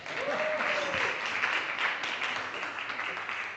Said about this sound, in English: Come on, a round of applause for him.